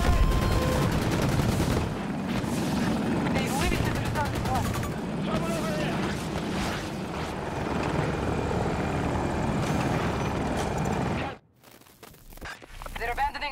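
A Hokum attack helicopter in a video game fires rapid bursts of gunfire over the steady, loud thrum of its rotors, with voices talking over the noise before the sound cuts away abruptly near the end.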